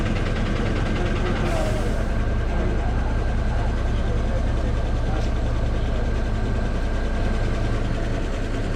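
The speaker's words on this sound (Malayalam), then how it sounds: "Tamil Nadu government back engine Layland എന്താ രസം വണ്ടിയാണ്." A Tamil Nadu government Leyland rear-engine bus idles with a steady low diesel rumble that runs unbroken throughout, close and fairly loud, with a brief hiss near the start.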